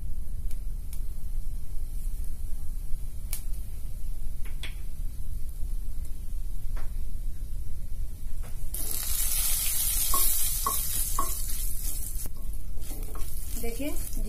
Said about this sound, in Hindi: अब तेल गरम हो चुका है, मैं इसमें जीरा डालूंगी।